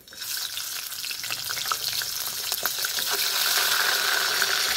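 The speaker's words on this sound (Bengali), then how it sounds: "আমি মাছ ভাজা বসাচ্ছি।" Aar fish frying in a pan over a fire of coconut leaves and wood, a loud, steady hissing sizzle with scattered spitting crackles that swells slightly louder toward the end, no voices.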